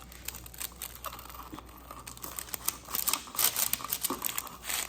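A pizza cutter rolls through a crispy air-fried frozen pizza, producing close, quiet crunching and crackling that grows louder and more frequent toward the end.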